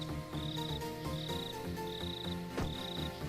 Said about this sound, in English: those are cricket sounds I'm hearing?